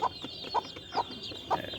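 A hen with newly hatched chicks clucks four times in short, evenly spaced notes, close and clear against a quiet background.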